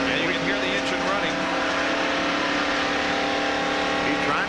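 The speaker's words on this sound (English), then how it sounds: "And you can hear the engine running." A blown engine in the Valvoline Ford stock car at the 1992 Hooters 500, running steadily around 4,000 RPM in fourth gear, a continuous loud droning hum with crowd and track noise around it.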